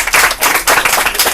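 Loud, close audience clapping during a French game show, a dense burst of applause that pulses and carries on without pause.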